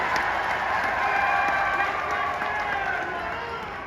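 A crowd at a public stage event applauds to welcome a chief minister, a dense, steady wash of clapping and cheering that swells and then starts to fade, loud and filling the space.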